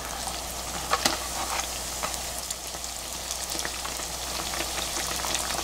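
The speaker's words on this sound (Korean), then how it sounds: "이렇게 기름을 조금 넣고 튀기면 색은 골고루 예쁘진 않지만 기름을 적게 써도 되니까 좋아요" Donuts made from flower bread (kkotppang) fry in a small amount of shallow oil, giving a steady, close sizzle and crackle with occasional sharper pops, continuous throughout with no talking.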